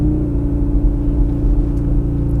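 An Audi RS Q3 Sportback engine rumbles loud and deep with a steady throb while held on the brake for launch control, close and unbroken with no talk.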